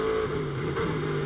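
Onboard engine note from a Mercedes GT race car at Brands Hatch during a Blancpain GT World Challenge race, a steady loud sustained drone with a slight dip in pitch, no voices.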